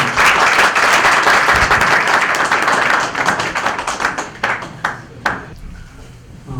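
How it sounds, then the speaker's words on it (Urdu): Loud audience applause welcoming a poet at a mushaira, dense clapping filling the first few seconds, then thinning into scattered individual claps that trail off. "تالیوں کی گونج میں ان کا استقبال کیجئے"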